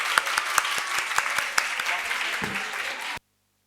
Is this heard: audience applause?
yes